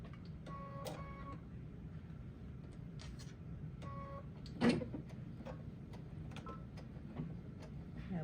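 A sewing machine runs a straight stitch to attach binding on a quilt, giving faint, intermittent mechanical whirring and ticking bursts with short pauses between runs.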